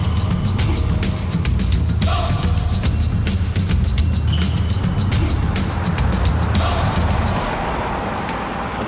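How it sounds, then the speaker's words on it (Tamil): A road vehicle drones steadily and loudly nearby, its rumbling engine and tyre noise holding for most of the stretch before easing off near the end. "ஏய், வண்டி வருது பாரு."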